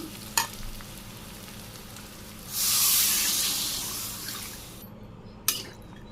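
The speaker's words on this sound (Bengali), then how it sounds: "এখন আমি ঝোল দিয়ে দিব।" Broth poured into a pot of cooking chicken, rural Bangladeshi kitchen: a loud rushing sizzle swells for about two seconds and fades, framed by a couple of sharp knocks of a utensil against the pot.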